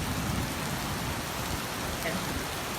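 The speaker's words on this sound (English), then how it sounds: "Let's see if this video works, because it is, the rain is like unreal." Heavy tropical rain in Malaysia, played back from a recording, as a loud, dense and continuous hiss of downpour filling the whole clip with no pauses.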